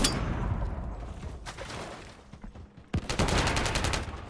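Gunfire in the Call of Duty MW3 beta: a loud crack followed by rapid automatic bursts, with a decaying echo between them.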